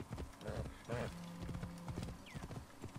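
Steady clip-clop of hooves at a brisk pace under a game soundscape, with a horse whinny and faint voices mixed in, from the video game Assassin's Creed Origins.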